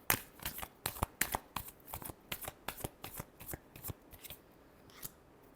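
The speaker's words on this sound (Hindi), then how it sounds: "last shuffle" A deck of tarot cards is shuffled by hand in a quiet room, a quick run of crisp riffling snaps in irregular bursts that thin out toward the end.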